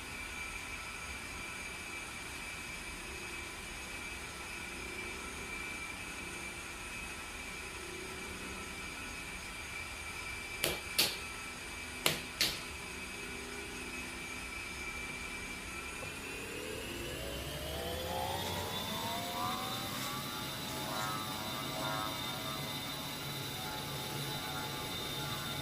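A-10C jet engines in a flight simulator spool up as the throttle is advanced, a steady whining drone that rises in pitch partway through. Several short clicks sound beforehand, and there is no speech.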